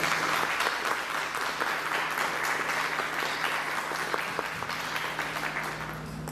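Audience applause at a university social sciences conference on gender, inequality and racism: steady, dense clapping from a crowd, sustained and even throughout with no talking over it.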